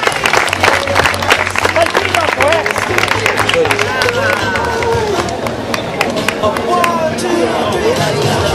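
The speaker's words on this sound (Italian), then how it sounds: "accogliamola con il nostro applauso, il nostro incitamento, la vincitrice di questa edizione 2019" Crowd applauding and cheering the women's winner arriving at the finish of the 2019 Cardacrucca race, steady clapping mixed with crowd babble and a voice on a loudspeaker, continuous and fairly loud throughout.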